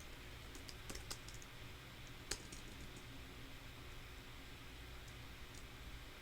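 Soft, irregular keyboard clicks tapping in a quiet room over a steady background hiss, with one sharper click standing out midway.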